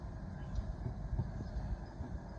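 London Underground Central line train pulling into Ealing Broadway station, a steady distant rumble with faint wheel clatter, heard alone at low level.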